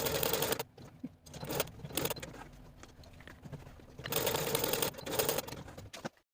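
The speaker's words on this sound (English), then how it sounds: "We're going to take these sleeves to the sewing machine" A domestic sewing machine runs in short bursts, stitching long basting stitches along the tops of dress sleeves, with quiet pauses between runs.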